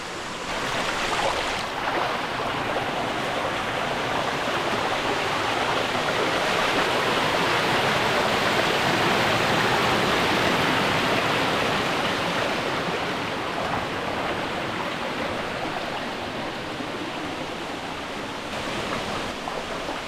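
Three-tiered waterfall behind a farm, a steady loud rushing roar of falling water that holds constant throughout with no voices.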